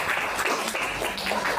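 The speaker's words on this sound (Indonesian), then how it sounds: "Tepuk tangan dulu untuk semuanya." A classroom of students bursts into steady, dense applause that fills the room for a couple of seconds.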